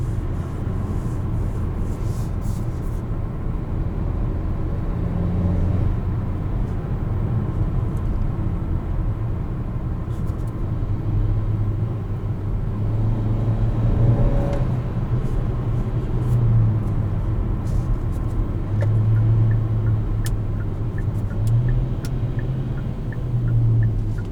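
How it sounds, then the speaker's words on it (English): A 2021 Kia Seltos SX Turbo with all-wheel drive accelerating out of corners, its engine a steady low rumble from inside the cabin with faint road noise rising and easing throughout. "All-wheel drive system allows this thing to just rocket out of corners."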